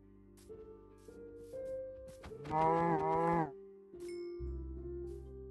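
A synthetic cow moos once, loud and close, between soft game sound effects and low tones.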